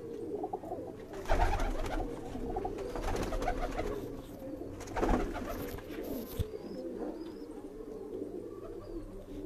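Sialkoti and domestic pigeons coo close by in a rooftop loft, soft throaty calls rising and falling in repeated bursts, with faint chirps mixed in and no talking.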